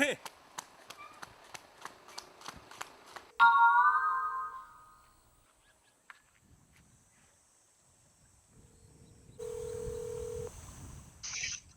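A mobile phone left behind in a house rings with a bright, warbling electronic ringtone that cuts in after soft rhythmic tapping. A second, steadier tone and some rustling follow.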